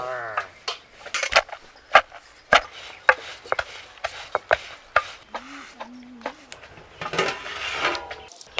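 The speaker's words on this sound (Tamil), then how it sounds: "நீ உரல்ல இடிச்சிட்டியா? இடிச்சுட்டே இருக்கேன்." Shallots pounded in a stone mortar while cooking mutton bone gravy, heard as a string of sharp, uneven thuds with a few brief voices in between.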